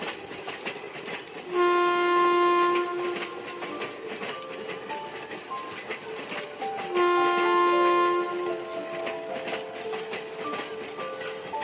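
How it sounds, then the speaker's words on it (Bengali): A local train on the Katwa–Azimganj line in rural Bengal pulls away from a station and runs on, its horn sounding loudly twice over a continuous rumble and rhythmic clatter of the wheels. "এই মিয়াগ্রাম স্টেশনে প্রায় 3 মিনিট মতো দাঁড়িয়ে ছিল আমার এই ট্রেন, তারপর আবার ছেড়ে চললো"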